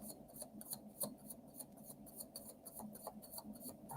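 Tarot cards shuffled by hand during a live reading, giving a steady papery riffling and rubbing with soft repeated flicks, close and fairly quiet, with no talking.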